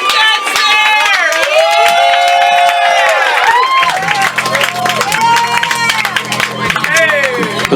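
A standup comedy show's crowd cheers and whoops loudly with scattered clapping, sustained excited voices filling the room for several seconds as a comedian approaches the stage.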